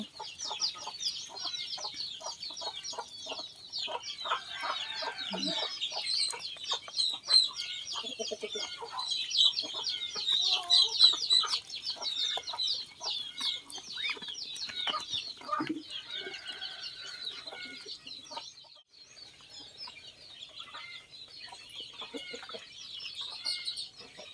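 Chickens cluck and chatter continuously at a Lao farm where ducks and chickens are fed together, with several birds calling at once at moderate distance, a busy overlapping flock noise with no voices.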